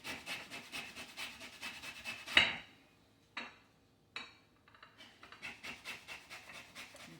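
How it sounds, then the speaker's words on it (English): A lemon's skin is scraped over a dull handheld zester, giving a run of quick, rhythmic rasping strokes near the mic, broken by a brief pause and a few separate scrapes before the steady rubbing resumes; no one speaks. "begin to zest the skin of this lemon"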